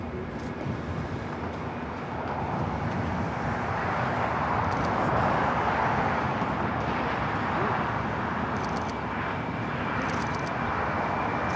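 National Airlines airliner in anniversary livery takes its takeoff roll on runway 25 Right at LAX, a broad, distant jet roar that swells in the middle and stays steady, with faint radio chatter in the background.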